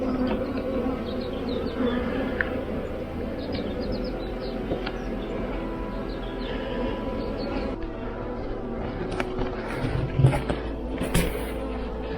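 A queen bee and her workers buzzing as they are released from a hive, a dense continuous close drone of many insects with a few louder passes near the end, no speech.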